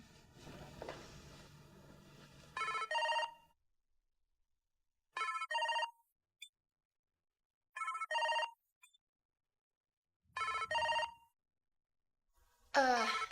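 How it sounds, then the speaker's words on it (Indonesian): A telephone rings in repeated double bursts with quiet gaps between them, clear and fairly close, after a stretch of low background noise. "Kayaknya aku dapat telepon masuk."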